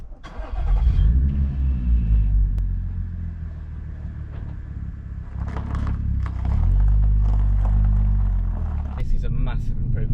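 An Audi S4 fitted with a new aftermarket exhaust starts up close by and settles into a deep, rumbling idle, then swells with a rev partway through before easing back down.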